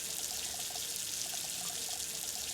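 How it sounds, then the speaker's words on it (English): Water runs steadily from a tap in the video game Junkyard Truck as a drink is taken, a continuous close trickling stream without pauses. "I can get a quick drink of water right here"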